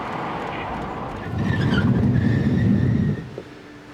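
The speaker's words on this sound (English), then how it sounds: "That's a Bilderberg car." A car, said to carry Bilderberg meeting attendees, drives past fairly close with a swelling engine and tyre rush that peaks mid-clip and then fades, with no talk over it.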